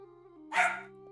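A single short bark from a puppy indoors, sharp and close, rising briefly above a quiet steady background hum.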